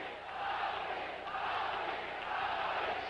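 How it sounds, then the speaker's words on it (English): A dense baseball stadium crowd at a Royals versus Blue Jays game in Toronto chants and cheers loudly, a steady roar that never lets up. "They are chanting and cheering and carrying on."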